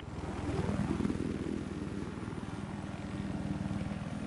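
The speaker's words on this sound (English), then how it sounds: "This is my favorite helicopter." Helicopter in Battlefield 4 flying steadily, a loud continuous rotor thrum with rapid regular blade chop that swells early then holds at a constant level, heard alone.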